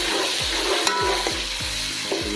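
Onions frying for chicken pulao sizzle steadily in hot oil, close and continuous, with a spoon scraping the pan in a regular rhythm of soft strokes.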